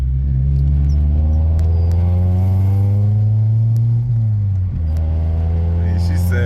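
A Honda Accord wagon swapped with an all-motor F20B engine and an eBay exhaust pipe idles and revs in a steady, loud drone, with a brief dip in pitch partway through.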